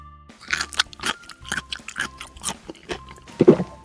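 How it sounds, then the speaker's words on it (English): Crunchy orange carrot being bitten and chewed, a series of close, crisp crunches at an irregular rhythm with a heavier bite near the end, no talking. "that carrot was super crunchy"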